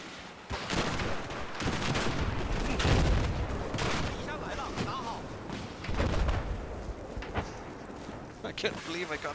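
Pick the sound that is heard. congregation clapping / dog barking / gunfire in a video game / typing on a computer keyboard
gunfire in a video game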